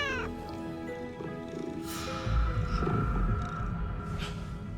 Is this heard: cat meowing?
yes